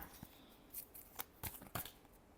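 Tarot cards being shuffled by hand, a few soft riffling bursts and flicks spaced out over a quiet background, close and faint.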